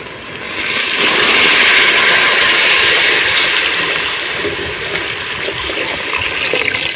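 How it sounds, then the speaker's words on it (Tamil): Water pours steadily in a broad rushing stream into a cooking pot for several seconds, close and fairly loud, with no talking. "தேவையான அளவு தண்ணி ஊற்றிக்கலாம்."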